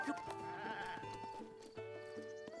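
Goats bleat in short repeated cries over a steady synthetic-sounding backdrop, several calls overlapping, in the video game Breath of the Wild.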